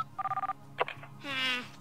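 Telephone sounds in the video game Planet Coaster: a quick run of six even touch-tone beeps, then a short electronic chirp and a warbling ring-like trill, clear and fairly quiet over a low background hum.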